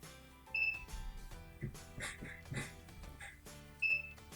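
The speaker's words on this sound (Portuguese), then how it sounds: "Como a sonda está fora do solo, ele soa um alarme." Short high electronic beeps from a soil moisture sensor alarm set off with its probe pulled out of the soil, one near the start and one near the end, amid quiet clicks and handling noises.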